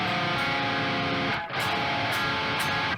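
Electric guitar with a distorted, effects-laden tone plays a minor major 7 shell chord, struck twice with a brief gap near the middle, each ringing steadily and fairly loud with no speech.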